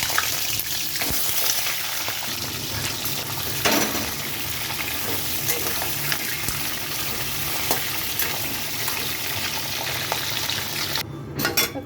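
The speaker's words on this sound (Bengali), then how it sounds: "তো এখানে কাঁকড়াটা দিয়ে দিচ্ছি ভাজার জন্য।" Halved crabs sizzle loudly in hot oil, a dense continuous frying hiss with occasional stirring and pan clatter for several seconds, with no voices.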